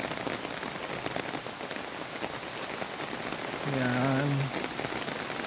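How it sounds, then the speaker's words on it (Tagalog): Steady rain patters on a surface in a constant hiss, with a short spoken word partway through. "lumakas ang ulan"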